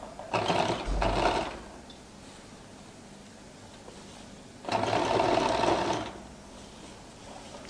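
Sewing machine top stitching a skirt lining, whirring in two steady bursts of stitching separated by a quiet pause, close and fairly loud.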